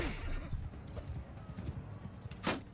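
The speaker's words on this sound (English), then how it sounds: "let's get on the horse." Hooves clip-clop from a horse in Mount and Blade 2 Bannerlord, a steady run of close, moderate thuds with a short sharp accent near the end and a faint voice underneath.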